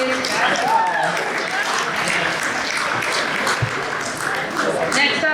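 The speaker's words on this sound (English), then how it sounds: "Round of applause for varsity boys basketball." Dense, steady applause fills a sports award banquet hall for the varsity boys basketball team, a broad wash of many hands clapping at once, with scattered voices and cheers mixed in.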